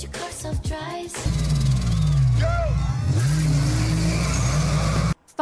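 Car engines rev loudly in a street car race, a sustained droning roar with rising and falling pitch that starts abruptly after a brief moment of voices and cuts off near the end.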